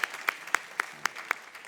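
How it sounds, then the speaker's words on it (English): An audience at a startup showcase evening claps in a steady, rhythmic run of sharp, fairly faint handclaps, about four per second, with no voices over it. "big round of applause for Daniel"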